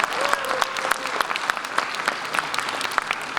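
Concert crowd applauds as band members are introduced one by one, a steady wash of clapping with sharp individual claps standing out, while a faint sustained tone drifts underneath.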